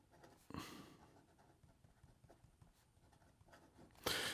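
An Onoto Magna Sequoyah fountain pen writes quickly across paper, giving a close, steady scratchy rustle of strokes, with a louder brushing burst near the start and again at the end.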